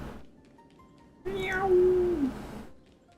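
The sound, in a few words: cat meowing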